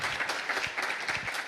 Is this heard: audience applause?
yes